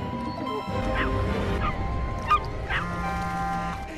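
A dog barks in a few sharp, separate yaps over a steady background hum, with no speech.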